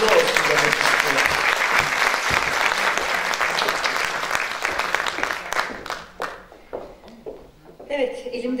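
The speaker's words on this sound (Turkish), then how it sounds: "Alkışlarınız Şerife Didem Keremoğlu için." Audience applause at a choir concert, a dense crowd clapping loudly that thins out toward the end, with a few scattered claps and a voice starting to speak at the close.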